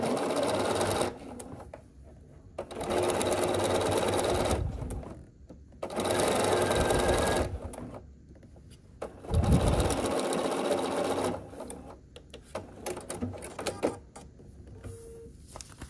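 Sewing machine stitching a foundation paper pieced star quilt block, running in several loud, steady bursts of a few seconds each with short pauses between them.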